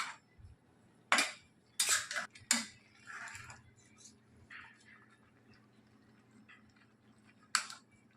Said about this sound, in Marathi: चांगलं ढवळून घेते कारण आपण मीठ वगैरे सगळं टाकलं आहे